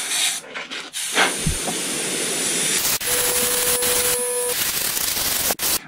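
Airbrush spraying heavy metallic paint at about 30 psi onto a Kyosho Pegasus RC car body, a steady loud hiss with sputtering breaks and short interruptions as the spray falters.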